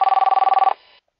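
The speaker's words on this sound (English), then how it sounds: "My phone's ringing." A telephone rings in one rapid, evenly pulsed burst, loud and close, then cuts off into a short fading tail and silence.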